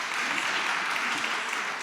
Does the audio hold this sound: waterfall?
no